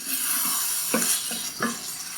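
Spoon stirring tomatoes in a pan of Tex-Mex polenta bake filling, a few soft scraping strokes over a steady simmering sizzle, close up with no talk.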